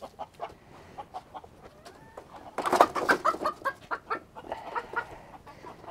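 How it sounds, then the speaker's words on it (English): A little hen, daughter of a Polish Frizzle, clucks close by in short scattered bursts that crowd into a louder, rapid run of clucks midway before easing off again. "It's a little hen that I hatched out a couple years ago"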